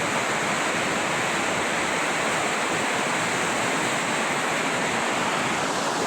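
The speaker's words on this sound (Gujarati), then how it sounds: "ખૂબ ચોખ્ખું પાણી શુદ્ધિકરણ કરીને અહીં આગળ આવી રહ્યું છે" A steady, loud rush of purified Narmada water flowing through an RO water treatment plant fills the scene without pause, like water pouring continuously through a channel.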